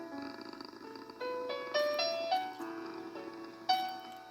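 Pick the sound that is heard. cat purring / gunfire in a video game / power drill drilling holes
cat purring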